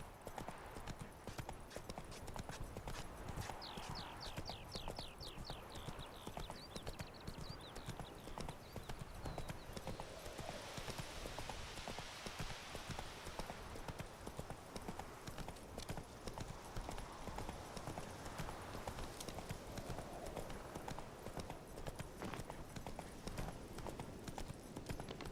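Roach the horse gallops in The Witcher 3, steady rhythmic clip-clop of hooves running on and on under game ambience, with a brief whinny-like sound and no clear talk.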